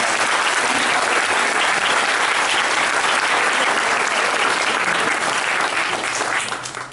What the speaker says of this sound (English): So let's give her a round of applause for doing